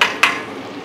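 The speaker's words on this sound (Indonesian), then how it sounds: "Bawang putihnya kita tumis dulu sampai benar-benar wangi." Garlic and onion sautéing in a frying pan while cooking a tofu vegetable dish, a steady close sizzle with one brief stirring scrape near the start.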